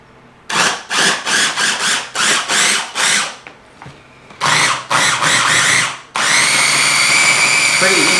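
A small, light electric hand mixer whirs in a quick series of short bursts while mixing avocado and eggs, then runs in one sustained loud stretch, close up.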